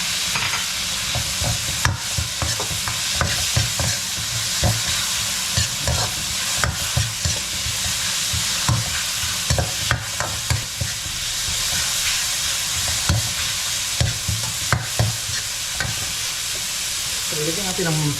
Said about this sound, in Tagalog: Lagyan na rin natin itong pinatayong hipon.